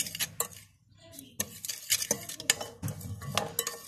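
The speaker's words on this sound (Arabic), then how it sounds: "هقلب بقى كل ده مع بعض" Spoon stirring chicken drumsticks with marinade and vinegar in a bowl, giving close, quiet scraping and clinking strokes in an uneven rhythm, with no talking.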